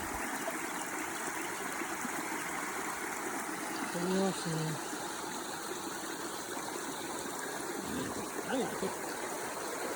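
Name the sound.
creek flowing in Willard Creek watershed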